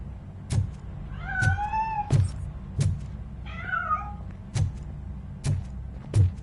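A cat in the RoboCop: Rogue City video game meows twice, drawn out and up close, between regular heavy thuds of footsteps or knocks.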